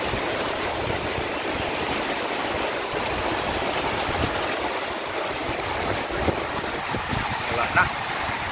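Floodwater from the Sierra Madre mountains rushes past in Caligayan, Tumauini, Isabela, a dense, steady roaring wash that never lets up, loud and near, with faint splashes.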